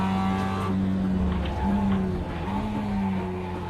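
Race car engine droning with tire scrub as the car drifts with opposite lock through a corner in a racing video game, a steady loud engine tone holding throughout with shifting pitch.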